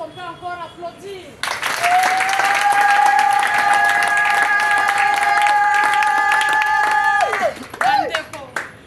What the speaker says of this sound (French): Est-ce qu'on peut encore applaudir?